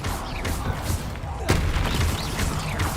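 Confringo fire spell blasts in Hogwarts Legacy combat, several sharp explosive bursts over a dense, loud battle din, one heavier boom midway.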